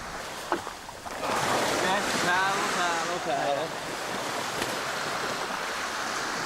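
Mellow ocean waves breaking on a Maldives island beach, a steady washing surf roar with wind noise on the microphone and faint voices in the background.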